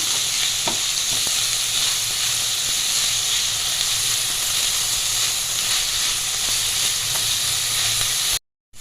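Onions sautéing in a pan with salt and turmeric, giving a loud, continuous hissing sizzle, with a few faint stirring scrapes and a brief cut-out near the end.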